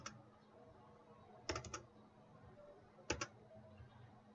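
Computer mouse clicks on a desktop during a remote applications lab: a soft click near the start, a quick cluster of clicks around the middle, and another double click later, close and quiet over faint room hum.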